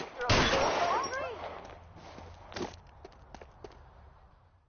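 Gunfire in the L.A. Noire detective game: one sharp, loud shot rings out with a ringing tail, then a scattered series of fainter cracks and footsteps trails off.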